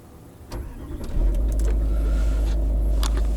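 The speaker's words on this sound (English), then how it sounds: "That's it, engine's running." A Range Rover L322 TDV8 diesel engine started by keyless push button gives a brief cranking whir and then catches into a deep, steady idle rumble close by, with no one talking.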